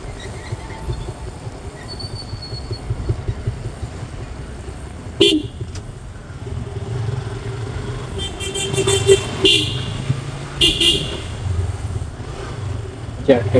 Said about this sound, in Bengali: যাক, একটা দুটা গাড়ি আসলে ভালো লাগে